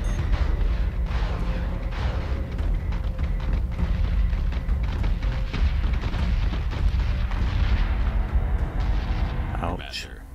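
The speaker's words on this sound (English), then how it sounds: "Missiles incoming!" Missile explosions in the space strategy video game Battlestar Galactica Deadlock form a dense, continuous rumble of booms and blasts that stays loud throughout and drops away abruptly at the end.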